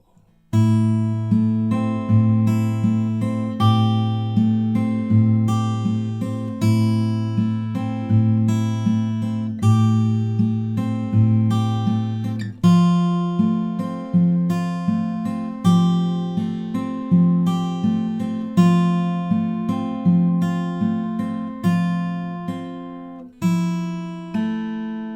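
An acoustic guitar is fingerpicked through a song's refrain, with clear plucked notes over a repeating bass pattern, played alone and unaccompanied, loud and close.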